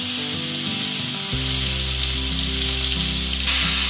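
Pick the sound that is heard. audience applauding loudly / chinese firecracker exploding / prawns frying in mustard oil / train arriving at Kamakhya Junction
prawns frying in mustard oil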